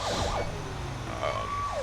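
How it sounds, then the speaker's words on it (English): A fire engine siren wails continuously in the FivePD police roleplay game, its pitch sweeping up and down steadily over a low engine drone, loud and close. "we'll turn off our sirens and we'll just go"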